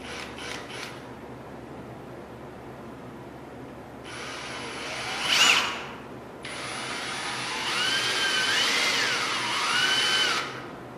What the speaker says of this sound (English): start a pilot hole